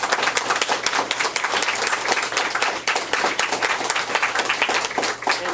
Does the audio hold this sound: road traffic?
no